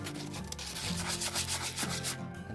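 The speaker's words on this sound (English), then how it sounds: "you can go over the surfaces with some sandpaper" Sandpaper rubs over a paper mache heart in steady back-and-forth strokes, a close, continuous scratchy hiss with rhythmic swells and no voices.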